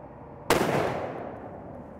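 A single sharp, loud shot from a Mossberg Patriot rifle chambered in 7mm PRC, fired during an ammunition test, rings out and trails into a long fading echo.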